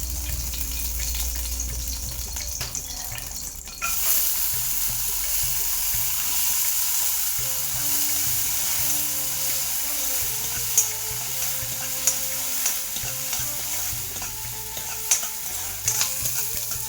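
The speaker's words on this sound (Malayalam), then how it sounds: "നമുക്ക് ഈ കടല വറുക്കാം" Steady loud sizzling of chickpeas dry-roasting in a hot pan without oil or ghee, with scraping stirs and a few sharp clicks and pops toward the end.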